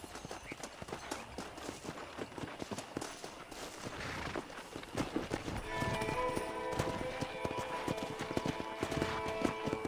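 Clip-clop of horse hooves on the move amid busy ambience in the video game Red Dead Redemption, steady and fairly close, with a denser mechanical layer joining partway through.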